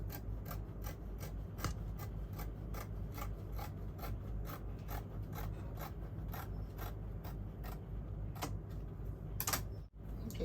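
Scissors cutting through ankara fabric for a puff sleeve: a steady, close series of rhythmic snipping and rasping strokes that continues without a break, with one brief louder rustle near the end.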